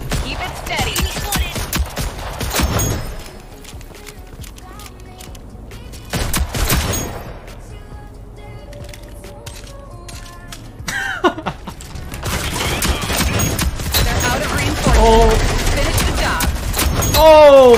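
Shotgun fire in the video game Rogue Company comes as loud close-range blasts in bursts, with quieter gaps between them, and a player's voice talks over parts of it.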